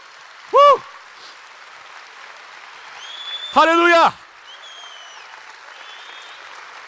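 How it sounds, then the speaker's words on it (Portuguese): A church congregation applauds in a steady, moderate wash of clapping, while a voice calls out loudly twice above it. "Aplauda, aplauda o Senhor."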